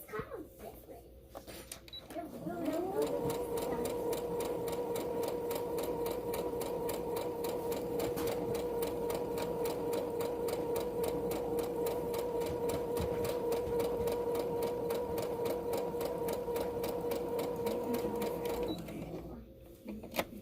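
A sewing machine stitches fabric for a face mask in one continuous run, its motor humming and needle clattering rapidly and evenly, close by, after a few short starts at the beginning and a stop near the end.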